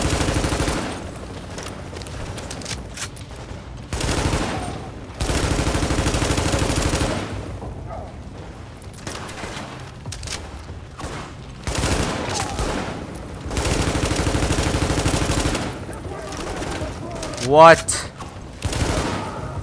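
Repeated sniper gunfire in The Division, loud bursts of shots recurring through the clip alongside other game noise, with a player talking over it.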